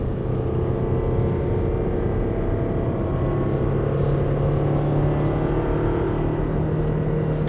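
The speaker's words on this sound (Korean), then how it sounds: "지금 이제 기어가 2단에 고정된 채로 주행을 하다 보니까 엔진 소리가 이렇죠." A steady engine drone from a 2024 Toyota Alphard 2.5 hybrid held in second gear holds at one pitch, a low, constant hum with road noise underneath and no voices.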